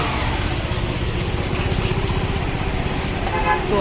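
A Honda Shine motorcycle engine idles after a repair to fix a sound problem, a steady close-up rapid thumping putter that runs loud and unbroken throughout.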